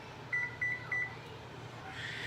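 A kitchen timer beeps three times in a short, evenly spaced series, close and clear over a low background hum, with no talking.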